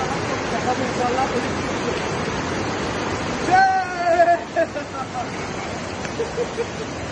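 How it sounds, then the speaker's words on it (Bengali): Rupsi waterfall, a small cascade near Mirsarai in Chittagong, pours down as a steady broad rushing wash of water, with a voice speaking briefly over it partway through. "এটা হচ্ছে ছোট একটা ঝর্ণা, উপর থেকে কিভাবে প্রবাহিত হয়ে পড়তেছে"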